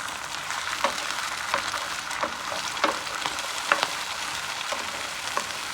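Steady sizzling and crackling of onions and an egg frying in a hot pan, with a brief scrape or stir cutting through roughly every second.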